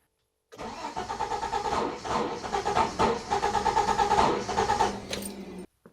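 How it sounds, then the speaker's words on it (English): A hot Citroen XM 3.0 24V engine cranks repeatedly in a fast, rhythmic chug for about five seconds without catching, then cuts off abruptly; close and loud. "this car is impossible, close to impossible to start when the engine is hot"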